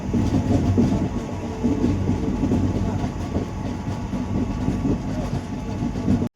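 Vivek Express passenger train running after pulling out of Bhadrak station, heard from inside as a continuous loud low rumble with rhythmic clickety-clack of the wheels over rail joints.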